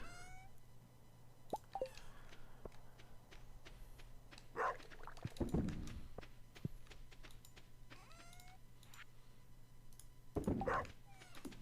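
Short barks from the farm dog in Stardew Valley, a few brief bursts around the middle and end, set over quiet game ambience and soft chimes.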